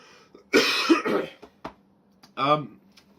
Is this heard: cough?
yes